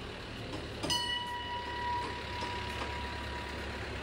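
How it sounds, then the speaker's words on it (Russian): A Christmas locomotive train rolls past at an outdoor Christmas fair in Vilnius. A low, steady engine rumble runs throughout, and a brief, clear electronic tone sounds early on. "наконец, вблизи повстречался рождественский паровоз"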